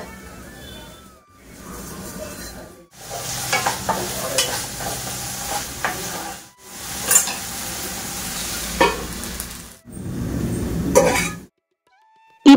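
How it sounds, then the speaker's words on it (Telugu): Ivy gourd fries in a pan while being stirred: bursts of sizzling with scraping strokes, separated by short silent gaps, and a louder stretch near the end. "ఈ పనులన్నీ చేసేసరికి చక్కగా దొండకాయలు కూడా బాగా ఫ్రై అయిపోయాయి"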